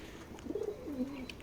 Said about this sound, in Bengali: দেখেন দুইটা বন কবুতর একসাথে খাইতেছে